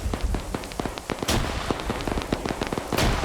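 Grenades go off in a video game firefight, a rapid scatter of sharp cracks and pops with two heavier, louder blasts standing out against a busy crackling background.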